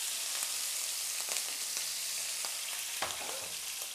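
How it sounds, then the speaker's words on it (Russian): Salted pork fat and chunks of salted meat frying in a pan, giving a steady close sizzle with scattered pops and faint stirring clinks, no voices. "покуда там все жарится"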